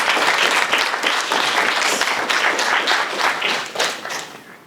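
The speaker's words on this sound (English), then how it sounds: "So give him a round of applause." Audience applause at a startup launch competition, loud and dense clapping that holds steady, then thins and fades toward the end.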